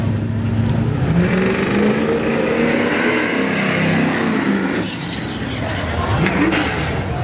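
A Ford Mustang and a box-body diesel truck race, with loud, sustained engine roar and rising revs throughout and a brief dip midway, heard close with a voice talking faintly underneath.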